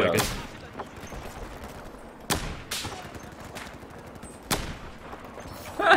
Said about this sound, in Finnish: Joku ampuu mua jostain kauempaa.